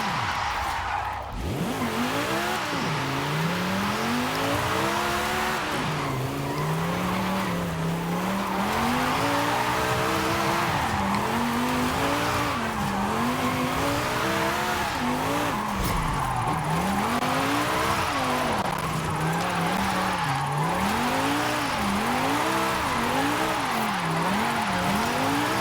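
A 2018 Saleen S1 drifts in Forza Horizon 5, its engine note rising and falling in long sweeping waves through continuous loud tire squeal, with no talk over it.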